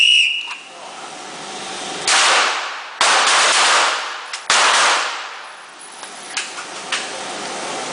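A whistle at a shooting range is followed by a couple of loud, close gunshots with reverberant tails, spaced a second or so apart, then a few fainter distant reports.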